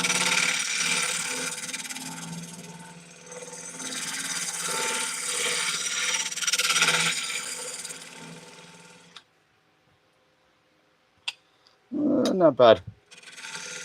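A skew chisel cutting wood on a spinning wood lathe gives a steady scraping, rasping roar for about nine seconds. Silence follows, then a short burst of harsh tool noise as a voice briefly speaks.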